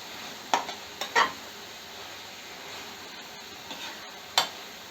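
Stirring dry fish curry with tamarind in a pan gives a soft background sizzle punctuated by a few sharp scraping and tapping strokes of the spoon, with no talking.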